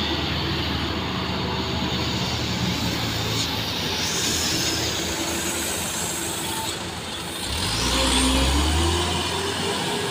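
Diesel trucks grind up the steep Kedabuan hill in Indonesia, a loud, continuous engine drone with rising and falling revs and a heavier low roar near the end as one labours closer.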